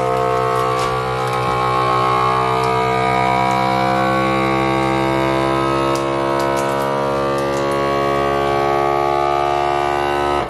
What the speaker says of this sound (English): I'm hoping this isn't too much to put through the vacuum sealer.